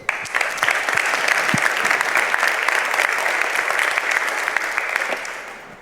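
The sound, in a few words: applause for the speaker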